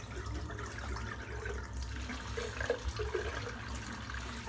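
Water runs steadily from a tap while soap is rinsed out of a shaving brush, a soft continuous splashing and trickle, fairly faint and close, with no talking.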